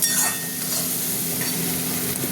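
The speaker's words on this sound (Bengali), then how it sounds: "হতে থাক মশলা কষাটা।" Spice paste frying and being stirred in oil in a pan while cooking prawns with ash gourd, a steady close sizzle with soft stirring scrapes throughout.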